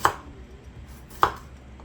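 A knife cuts through scallion on a board in two sharp, distinct chops about a second apart, close and crisp with quiet pauses between and no talking.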